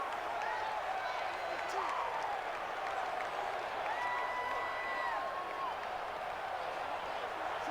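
Steady roar of a stadium crowd in a football video game simulation, Washington at the Browns, swelling as home fans make it hard to hear the snap count, with faint whoops and whistles rising through the continuous wash of noise.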